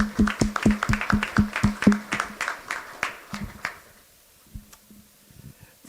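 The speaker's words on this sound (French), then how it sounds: "Je pense que ça mérite des applaudissements" A small group claps in a quick, steady rhythm that thins out and fades to a few scattered claps, close and clear.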